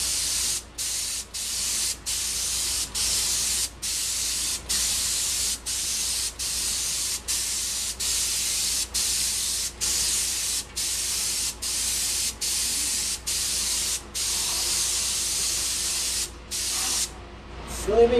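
A spray gun sprays a coating in a long series of short, even bursts, each a bright loud hiss separated by brief gaps, carrying on steadily for the whole span with a faint background hum.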